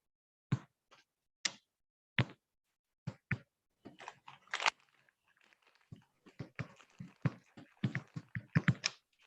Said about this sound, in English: I'm hearing some people typing.